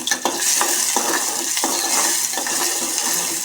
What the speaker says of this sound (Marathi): कांदा घातले लसूण घातले ते चांगलं परतून घेणे